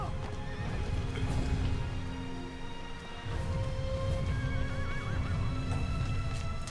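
Horse in the video game Shadow of the Colossus whinnying over steady clip-clopping hooves, loud and close throughout, with ambient game sounds and no talking.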